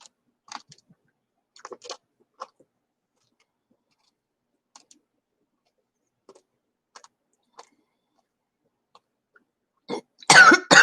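A person with a cold coughs in a quiet room at night, a few faint scattered sounds early on giving way to a louder, close burst of coughing at the very end.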